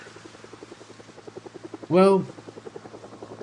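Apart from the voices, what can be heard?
helicopter flying over in video game Project Zomboid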